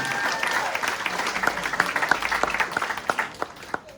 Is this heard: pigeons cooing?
no